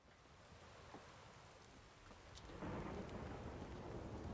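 Steady rain pours down during a storm in The Witcher 3: Wild Hunt, with a few soft rumbles of thunder rolling under the downpour as it thickens and grows louder partway through.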